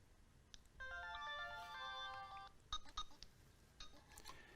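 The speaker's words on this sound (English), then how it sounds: "this sound indicates that the battery is nearly empty" Spectralink Nano handset sounding its low-battery warning: a short, faint electronic melody of descending and rising beeps, followed by a few soft clicks, in a quiet room.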